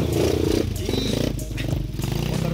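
A Yamaha WR trail motorcycle idles and burbles with a pulsing low engine note on a muddy trail. Voices talk briefly over the engine.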